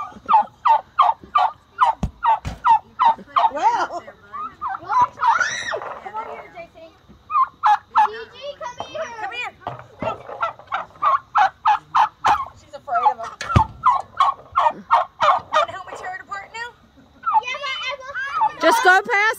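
Turkeys gobbling loudly and repeatedly in fast rattling bursts throughout, close by, with a voice and other voices heard among the birds.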